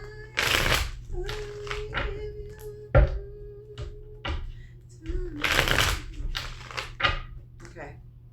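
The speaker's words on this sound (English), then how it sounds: "let's do another shuffle right quick" Tarot cards are shuffled in quick riffling bursts, close and crisp, separated by soft taps and handling noises, with two main shuffles a few seconds apart.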